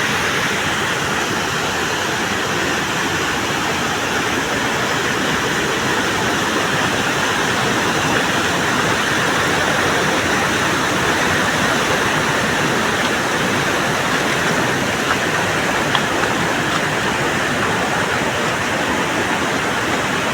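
Water pours over a dam near the Siddheshwar waterfall at Veldur in a steady, loud, unbroken roar that fills the whole stretch with no voices.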